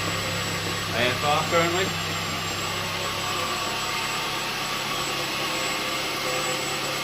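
Ford Zetec 1800 engine converted to motorcycle carburettors idles steadily from cold, a constant even hum and whine running throughout with a brief voice talking over it near the start.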